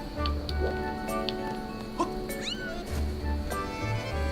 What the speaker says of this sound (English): It sounds like a kitty cat.